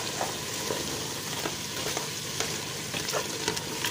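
A pot of Cuban beef stew with potatoes, carne con papas, is stirred after tomato sauce goes in, giving a dense, continuous bubbling sizzle with faint scraping strokes, close and alone.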